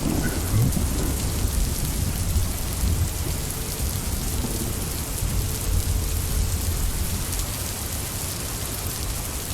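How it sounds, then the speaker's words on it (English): Steady rain sound effect from a Unity terrain scene: a dense, even hiss of falling rain at moderate volume throughout, with a low rumbling undertone and no voices. "Stop raining."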